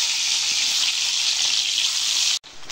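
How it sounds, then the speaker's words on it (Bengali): Turmeric-coated eggs fry in hot oil in a wok, giving a close, loud, even hiss that holds steady and briefly drops out just before the end. "এখন আমি কড়াইয়ে তেল দিয়েছি, তেলটা গরম হয়ে গেছে। আমি এখানে ডিমগুলো ভেজে নেব।"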